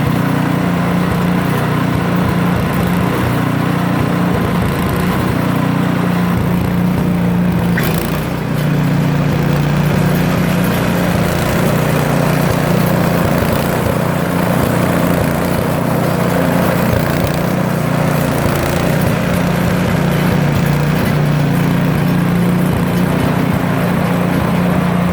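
A 2019 Craftsman snowblower engine runs with the auger turning, a loud, steady droning motor hum that holds evenly for about 25 seconds with no talking.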